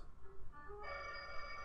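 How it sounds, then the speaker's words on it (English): A telephone rings in a 1970s chimp spy comedy, a steady electronic trill that grows louder partway through and continues without pause, with no talking over it. "Answer the phone, Lance!"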